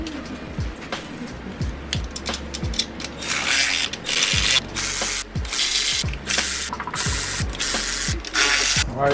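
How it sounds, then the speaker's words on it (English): A hand ratchet tightens the intake manifold bolts on a BMW 3 Series, giving repeated rapid clicking bursts close by with brief pauses between strokes and some metallic handling noise. "torque down your intake manifold bolts to 15 foot-pounds"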